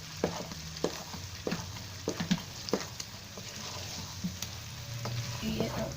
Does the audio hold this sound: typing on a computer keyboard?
no